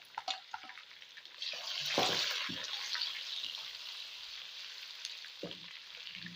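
Chopped green chillies, tomato and ginger garlic paste hitting browned onions in a pan, a sudden loud sizzle that swells then settles into a steady hiss, with a few clinks of a spoon around it.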